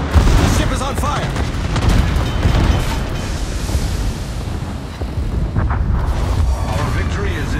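Heavy shell hits strike a battleship in the naval game World of Warships, a USS New Mexico, as dense, continuous booming impacts and rumbling fire roll under game noise and voices.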